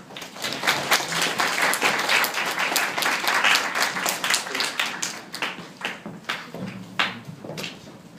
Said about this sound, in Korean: 큰 박수로 선생님 환영해 주시기 바랍니다